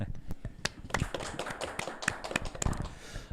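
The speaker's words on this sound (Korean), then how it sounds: "역시 박수로 맞이하면서 기대하겠습니다" Audience clapping breaks out at a housing welfare forum in Seoul to welcome a research speaker, a dense run of sharp hand claps holding steady for a few seconds at moderate volume.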